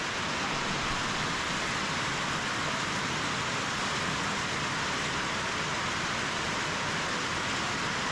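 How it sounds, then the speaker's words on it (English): Steady rain falling in the Laos countryside, a dense, even hiss that holds unchanged throughout without any voices. "Listen to that rain."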